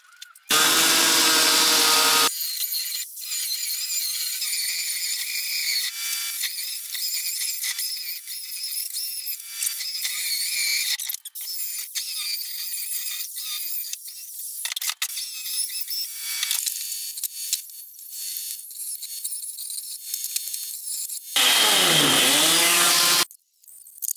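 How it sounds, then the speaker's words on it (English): An electric chainsaw cuts down the high points of pallet wood for a standing desk, its steady whine bogging under load through long cuts, with revving bursts at the start and end. "I used the electric chainsaw to cut the high points down"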